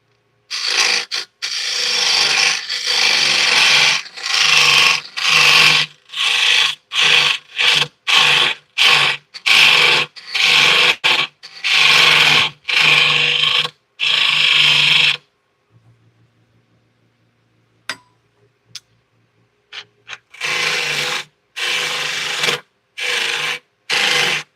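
Wood turning on a lathe: a tool scrapes the spinning wood in short, rhythmic rasping bursts, close and loud, with a quiet pause and a few faint clicks before the scraping strokes resume.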